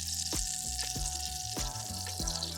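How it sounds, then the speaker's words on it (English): Earth Balance spread melting in a sauce pot gives a steady, close sizzle, with a few soft knocks and shifts breaking through the hiss. "melting 1 tablespoon of our earth balance in this sauce pot"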